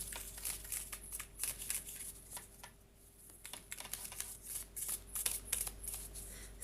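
Cards being shuffled up close, a continuous series of quick riffling and flicking sounds, soft and fairly quiet with brief pauses.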